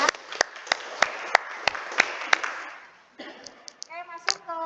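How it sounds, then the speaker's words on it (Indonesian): A group at a training session applauds after a team presentation, with brisk, crisp claps for about three seconds that fade out before someone begins talking. "Sekali lagi tepuk tangan."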